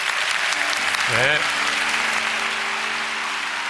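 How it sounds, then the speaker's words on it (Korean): Audience at a prayer meeting bursts into applause, a dense steady clapping that fills the room throughout, with a voice briefly speaking over it. "우리 강사님 위해서 박수 한번 하겠습니다"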